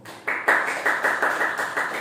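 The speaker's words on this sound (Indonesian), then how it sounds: "aplaus buat kita semua" Rhythmic clapping from participants at a school teachers' meeting, a steady series of claps close to the microphone, with no talking over it.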